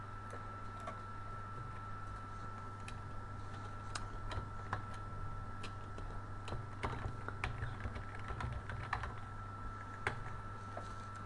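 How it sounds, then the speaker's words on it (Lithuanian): Quiet, steady typing on a computer keyboard while a blog post's text is entered, with irregular bursts of key clicks over a constant low electrical hum. "Dabar čia rašysiu kažkokį tekstą."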